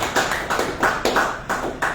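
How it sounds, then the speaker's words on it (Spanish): A church congregation claps in time during a Spanish-language worship service: steady, evenly spaced hand claps at a brisk, regular rhythm, fairly close and sustained throughout. "Nosotros podemos darle palmas al Señor"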